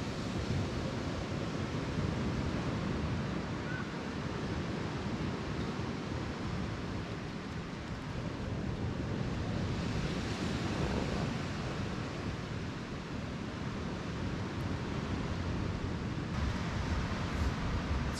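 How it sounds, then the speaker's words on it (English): Ocean waves break on the shore at a beach in El Nido, Philippines, a continuous broad wash of surf with breeze, steady and fairly loud, with no one talking. "hearing the waves crashing"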